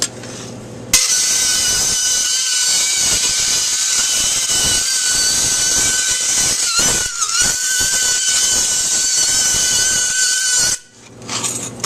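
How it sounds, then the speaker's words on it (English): A bandsaw cutting a leaf shape out of copper sheet, a loud close continuous metallic whine and rasp lasting about ten seconds with slight pitch dips as the cut turns, then the blade winding down. "The first thing is to cut one out with a bandsaw."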